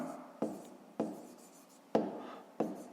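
A pen writes by hand on paper in four short scratchy bursts, each starting with a tap, close and quiet during a fifth-grade math lesson.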